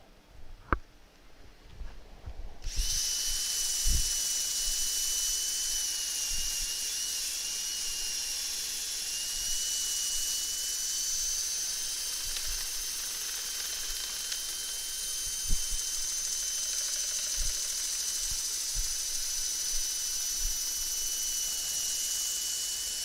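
A high-pitched power drill starts up after a brief quiet and whines steadily, with occasional knocks and scraping as it grinds into wood, hollowing an elm burr bowl.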